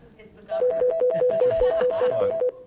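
Electronic phone ringtone during a county board of education and legislative delegation meeting, a steady repeating two-tone pattern that rings continuously for about two seconds, loud and close, with no talk over it.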